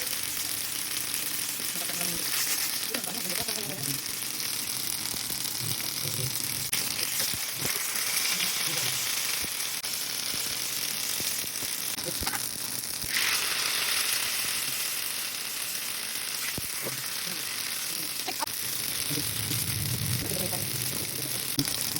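Pasta-wrapped hotdogs fry in hot oil in a pan, giving a steady close sizzle with occasional crackles and pops that runs through the whole stretch, with no talk.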